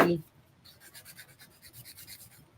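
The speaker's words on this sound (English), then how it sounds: "I also using my sanding band to clean it right here on the both edge" Soft rhythmic rasping of a nail file or sanding band scraping back and forth, close and quiet, after a brief thump at the start.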